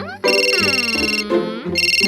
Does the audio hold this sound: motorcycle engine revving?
no